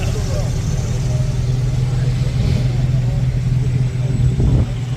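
Classic cars idle and rev on the starting grid of the 2025 Mille Miglia in Italy, a steady loud engine rumble with a brief rise near the end, close by, with a voice talking over it.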